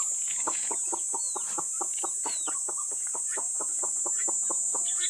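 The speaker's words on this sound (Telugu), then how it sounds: "మీరు అక్కడ చూడండి మొత్తం అక్కడ కోలు అనేది తిరుగుతూ ఉన్నాయి నేను ఇక్కడ పిలుస్తాను ఇక్కడ కోలు వస్తాయి" Free-range country chickens on a farm, a rapid run of repeated clucks pulsing evenly over several seconds, close by, with a steady high hiss of background noise and no talk.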